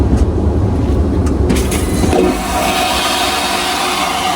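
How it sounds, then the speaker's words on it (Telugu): Airplane toilet flush aboard an IndiGo flight: a loud, close rushing whoosh with strong low rumble, an abrupt surge partway through that settles into a steadier hiss under continuous cabin noise. "ఒకసారి ఆ ఫ్లష్ కొట్టి చూద్దాము సౌండ్ ఎలా వస్తుందో"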